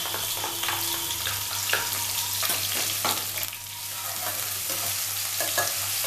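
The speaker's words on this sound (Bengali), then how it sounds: "পেঁয়াজটা আমি একটু ভাজা ভাজা করে নেব।" Chopped onions frying in hot oil in a pan after tempering spices: a steady sizzle runs throughout, broken by stirring scrapes and clinks, with a low hum in the background and no talk.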